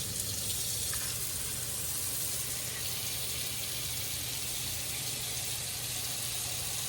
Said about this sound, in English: I'm just going to pour some cold water in there.